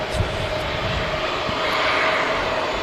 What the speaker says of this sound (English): One of the newer aircrafts in the fleet, Jet2.